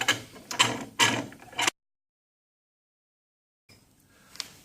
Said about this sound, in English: we can take a G-clamp and we can clamp this in position